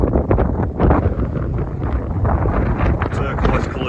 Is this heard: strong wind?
yes